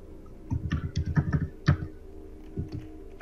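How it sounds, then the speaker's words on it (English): Loud computer keyboard typing in a Minecraft play session, bursts of rapid clacking keystrokes close by, pausing briefly before a few more keys are struck. "Your keyboard buttons are really loud."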